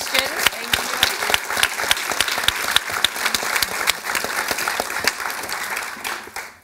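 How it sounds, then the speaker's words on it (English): An audience at a panel discussion applauds the panelists, with dense, sustained clapping from a crowd carrying on for several seconds before tapering off at the end. "Big round of applause to our panelists and to you for these great questions."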